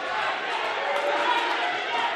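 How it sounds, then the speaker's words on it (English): A boxing crowd roars and urges on the fighters, a dense, loud wash of cheering voices filling the arena without a break. "Crowd really urging these fighters on."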